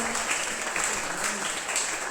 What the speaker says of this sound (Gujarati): ખૂબ જોરદાર તાળીઓથી એમને વધાવી લો